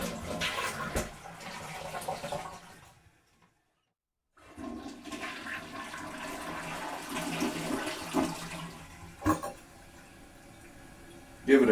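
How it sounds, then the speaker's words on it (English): A toilet flushes with a rush of water, goes briefly quiet, then refills with gurgling and trickling, fairly faint and close, just after being reset and shimmed. "Give it a couple more flush."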